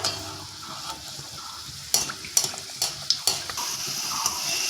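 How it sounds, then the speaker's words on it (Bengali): Hot oil hisses steadily while snacks fry, punctuated by several sharp scrapes and taps of a spatula against the pan. "এখন আমি টিফিনগুলো এক এক করে ভেজে নিব হালকা তেলটা গরম করে নিয়েছি"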